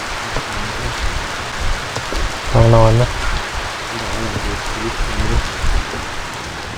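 Steady rain falls on a survival raft, a dense constant patter and hiss of drops on the surface, with a voice briefly speaking over it.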